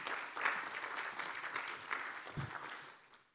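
Applause from a conference audience for a panelist, a councillor for the Moroccan community abroad, at a forum on African diasporas and public policy; steady, moderately faint clapping from a roomful of people that fades out at the end.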